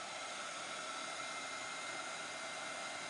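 A dryer blows steadily on a chalk-paint craft piece with cotton branches, a constant close airy whoosh that runs without a break and with no talk.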